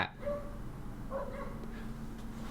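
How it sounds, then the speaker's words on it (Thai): A dog gives two short, faint yelping barks about a second apart over a steady low hum in an indoor room. "จะเห่าอะไรกันนักหนาวะ"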